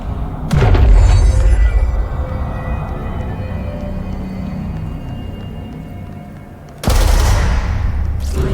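Gunfire in the game Control lands as a loud booming burst with a low thud, then lingers as a rumbling tail, followed by another sharp blast near the end.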